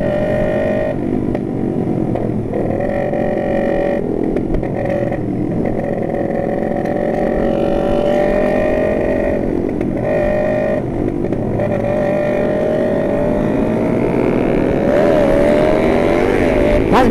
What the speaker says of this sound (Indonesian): Oh gila ini ninja anjir, berisik banget sih sumpah anjir